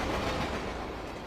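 A freight train speeds along the rails at around 59 miles an hour, a steady loud rumbling roar of wheels and cars passing close, with no talking.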